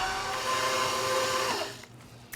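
An electric stand mixer with a paddle beats thick cake batter at medium speed. Its quiet, steady motor hum with a faint tonal whine winds down and stops, leaving near silence with a small knock at the end.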